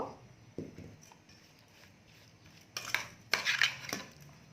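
Fish mixed by hand with bird's eye chillies and salt in a dish, quiet soft rustling and squelching with occasional clinks of the dish, louder near the end.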